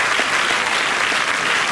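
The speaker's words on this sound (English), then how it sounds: "Can we give God a clap of hands?" An audience at a church gathering claps hands steadily and loudly for God, a dense continuous wash of applause with no pauses.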